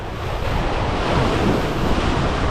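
Ocean waves surge and wash onto a rocky shore in a steady, loud roar, mixed with wind buffeting the microphone throughout.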